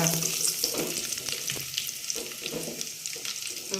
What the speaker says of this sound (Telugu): పోపు రెడీ అయిందండి.